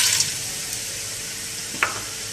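Whole fox nuts (makhana) fry in ghee with a steady close sizzle and one brief stirring clink partway through, no talk.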